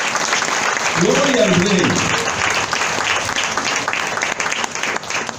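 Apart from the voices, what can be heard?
congregation applause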